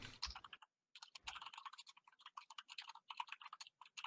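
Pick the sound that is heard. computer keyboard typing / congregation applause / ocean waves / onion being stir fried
computer keyboard typing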